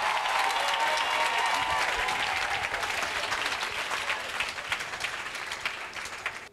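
A church congregation at a Sunday evangelical service applauds and acclaims the Holy Spirit with loud, sustained clapping that fills the room and thins slightly toward the end.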